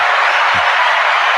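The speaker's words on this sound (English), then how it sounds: "I want to give you a round of applause for that right there." An audience applauding, a loud, dense, steady wash of clapping filling the whole moment, with a brief low thump partway through.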